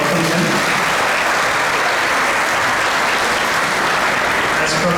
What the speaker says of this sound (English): We can give a big round of applause to welcome him.